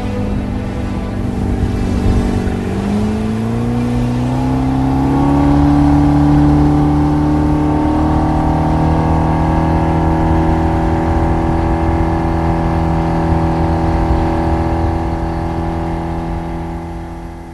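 A continuous vehicle engine in a French audio drama holds a steady, loud hum, then revs upward in pitch and settles into a sustained whirring drone that fades slightly at the end, with no voices.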